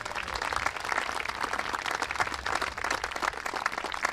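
An audience at the ANZAC Cup 2026 men's football event applauds, a dense steady patter of many hands clapping at moderate distance, continuous for the whole stretch without voices.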